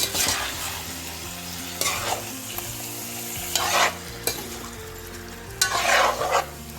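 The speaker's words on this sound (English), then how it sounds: "So it's cooking really nice now, like how I want it to be cooking." Homemade Trinidadian mango achar cooking in a pot, stirred in repeated scraping strokes over a steady close sizzle, with no talking.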